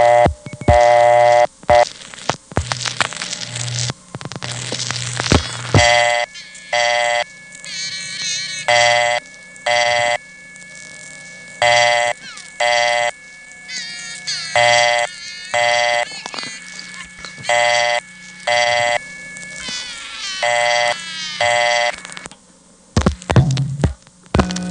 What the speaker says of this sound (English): that time there definitely was a payphone stuck on the line because you can clearly hear both coin tones of the newer totalizers